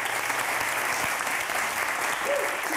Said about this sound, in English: A big round of applause for Nicky Twilley.